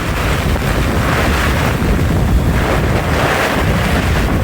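A Bangalore thunderstorm brings strong wind buffeting the microphone in loud, continuous roaring gusts, with a dense wash of heavy rain underneath and no voices.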